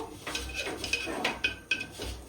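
A cloth wipes leftover water from inside a clay pot in quick repeated strokes, with light scraping and occasional small knocks against the pot, up close.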